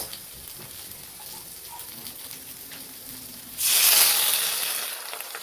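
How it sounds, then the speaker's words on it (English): Vegetables with basil sauté in a pan after a splash of water goes in, a sudden loud hiss and sizzle erupting near the end and easing slightly, following a quieter stretch of low background noise. "we're just going to toss it a bit and let them simmer and saute"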